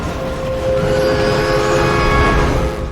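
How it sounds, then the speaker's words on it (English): A loud, sustained rail rumble with a steady tonal train-whistle drone running through it, continuous for the whole stretch, from a Ms. Marvel episode scene. "You can hear a train whistle."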